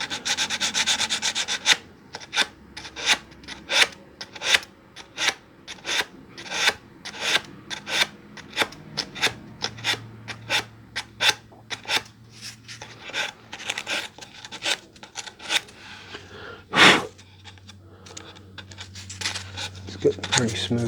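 Sandpaper rubbed across a partscaster guitar body during finish work, a series of short rasping strokes in an even rhythm, close and clear, with a sharper knock near the end and some talk.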